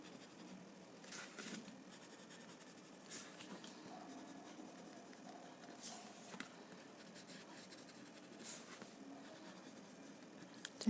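A pencil scratches on paper while outlining a tangle-pattern drawing, with soft, faint stroking sounds coming in repeated bursts every couple of seconds against a quiet room background.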